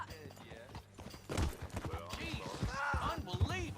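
Hooves of a horse in the Red Dead Redemption 2 game clop in a quickening, ridden rhythm, close and loud, mixed with short spoken lines and a brief whinny.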